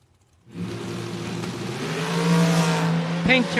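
A pink-carbureted dragster at a drag race revs up from near silence into a loud, sustained, rising engine roar with strong harmonic drone, accompanied by a voice.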